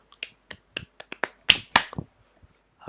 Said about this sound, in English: I have no idea why I just clapped.